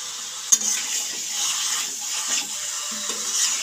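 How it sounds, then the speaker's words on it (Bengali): Chicken sautéing in a pan for a curry gravy, a bright continuous sizzle with occasional soft stirring scrapes and a small knock near the start. "তো দেখো চিকেনটা আস্তে আস্তে আমি ভালোভাবে কষিয়ে নেব"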